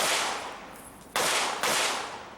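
Two sharp, distant gunshot cracks ring out about half a second apart as a shooter runs an IDPA match stage at Mecklenburg Wildlife Club, each followed by a brief decaying echo.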